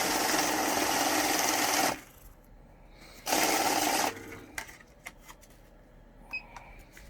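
A Godrej Crusader Lite note counting machine runs in two bursts of rapid, whirring flutter as banknotes feed through, with clicks and small mechanical knocks between and after the bursts.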